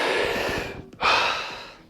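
Deep, forceful breaths during a guided Wim Hof-style breathwork session: a long sustained breath, a brief pause, then another strong rushing inhale or exhale, close and loud with no talking.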